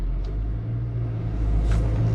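Mercedes R230 SL500 driving, heard from inside as a steady low engine and road rumble, fairly loud and continuous with slight swells.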